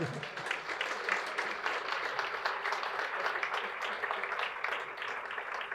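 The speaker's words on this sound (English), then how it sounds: "So give him a round of applause" An audience applauds steadily at a sports and recreation hall of fame ceremony in Smiths Falls, a dense, even wash of clapping that holds for the whole stretch without letup.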